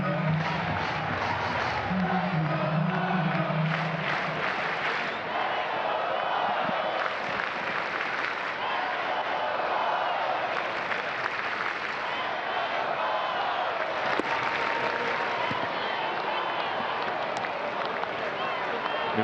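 A crowd of about 16,000 at a chilly September evening MLB game between the Minnesota Twins and Kansas City Royals applauds and cheers in a steady, dense roar, with commentators' voices faintly underneath.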